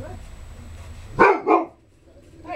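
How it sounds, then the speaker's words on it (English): A dog barks indoors, two loud close barks in quick succession, with a man's brief words just before and a faint bark following. "Sorry about the dog barking."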